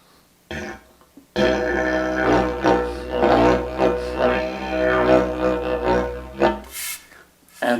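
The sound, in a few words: compact telescoping didgeridoo played in D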